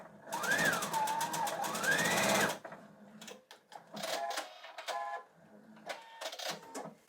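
A sewing machine runs a quarter-inch seam through patchwork quilting fabric in a fast, even whirring burst up close, followed by short, quieter stop-start stitching runs and handling clicks.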